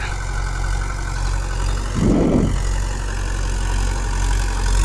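Engine of a 2000-model Mahindra 575 DI tractor running steadily at idle, a low continuous throb with a short louder burst midway, fairly close and without speech.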